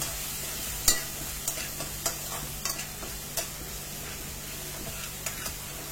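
A spoon stirs turmeric and red chili powder in a pan over low, steady sizzling, with a sharp scrape near the start and lighter irregular clicks and scrapes after, faint and close, with no talk.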